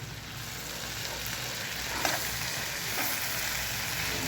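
Bitter gourd, potato and dried fish fry with salt and mixed spice powder is stirred in a pan, a steady loud sizzle with scraping stir strokes, close and continuous, no talking.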